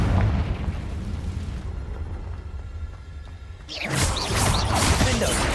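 A Confringo spell explodes in the video game Hogwarts Legacy with a rumbling blast that fades into a low tail. A second burst of crackling, booming impact follows near the end, loud and close.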